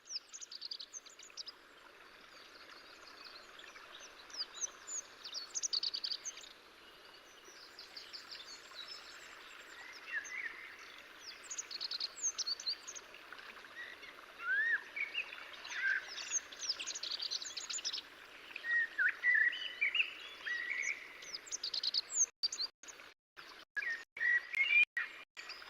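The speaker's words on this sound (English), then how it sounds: "The Bonelli's eagle." Bonelli's eagle calls from the wild Iberian countryside, heard as faint, scattered high cries and chirps against a quiet backdrop, with a run of sharp clicks near the end.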